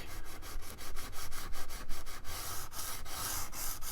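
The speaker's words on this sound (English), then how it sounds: "I'm just going to go over this like this with this sanding block" A sanding block is rubbed back and forth over the frets of a guitar neck, giving a steady run of close, rhythmic scraping strokes, about a dozen or more in quick succession, with no talking.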